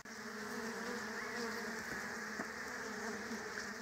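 Steady, dense buzzing of many honeybees around a hive, continuous and fairly close, with a constant droning hum throughout.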